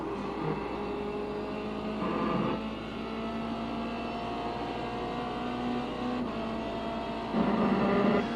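Race car engine from the iRacing sim at Donington Park, a steady sustained drone with harmonic lines shifting slightly as the car drives through a lap, with brief rises in revs, no talking.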